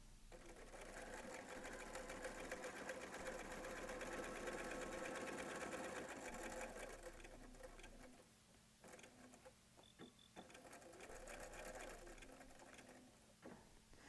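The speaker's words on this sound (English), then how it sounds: "you're going to stitch, and as soon as the needle penetrates that crease, you will backstitch to complete this edge of the binding" A sewing machine stitches quilt binding with a fast, steady mechanical whir. The motor stops, then gives a few short bursts of stitching for a backstitch. The machine is close and quiet, with no talking.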